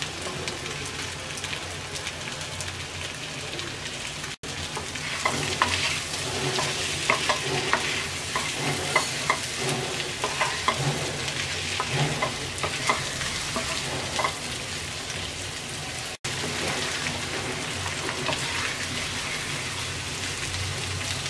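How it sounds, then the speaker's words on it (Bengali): Potato and taro root pieces fry in hot oil in a pan with a continuous crackling sizzle and intermittent stirring scrapes, close and steady with two brief dropouts. "আলু আর কচুর গাঠিটাকে 2-3 মিনিট ভেজে নেব"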